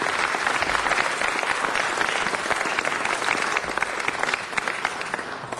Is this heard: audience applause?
yes